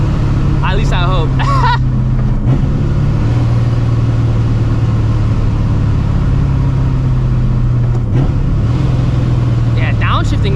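A supercharged New Edge Mustang GT engine with a 700 hp setup drones loudly and steadily from inside the car while driving, with a brief dip in engine note around mid-clip and again later; someone talks over the engine at the start and end.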